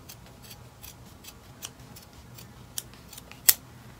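Scissors snipping through faux crocodile leather fabric, a series of small crisp cuts in a quiet room, ending with one louder sharper snip.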